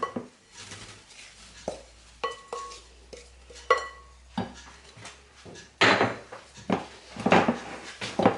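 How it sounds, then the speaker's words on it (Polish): A utensil scrapes and knocks in a bowl as cake batter is mixed into a beaten egg mixture, giving irregular taps and rubbing strokes that grow busier toward the end. The sound is close, with no talk. "do tak przygotowanej masy jajecznej dodaję pierwsze ciasto i mieszam"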